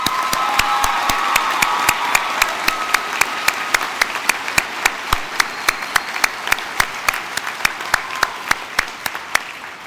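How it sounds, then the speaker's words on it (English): Sustained applause from a graduation ceremony audience at a law school, dense steady clapping across the hall with a few sharper individual claps standing out. "Please give them a round of applause."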